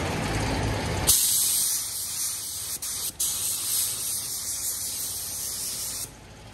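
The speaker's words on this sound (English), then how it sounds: "I'm not gonna spray it heavy." A spray gun sprays paint onto a frame, a loud continuous hiss that starts after a second, breaks briefly twice, then cuts off near the end, with a low rumble before it begins.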